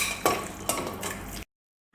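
Beef pieces tipped into a pressure cooker, with a few metallic clinks and scrapes against the pot over a low rustle, followed by a sudden silence.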